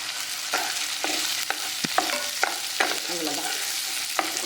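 Roasted gram sizzles as it is sautéed in a pan for chutney, with a steady frying hiss broken by repeated scrapes and knocks of a spoon stirring against the metal, close and clear.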